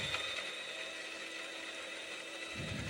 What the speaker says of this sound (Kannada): ಮಸಾಲೆಗಳೆಲ್ಲ ಹಾಕಿ ಚೆನ್ನಾಗಿ ರುಬ್ಕೊಬೇಕು.